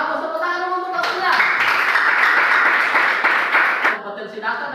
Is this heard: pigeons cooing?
no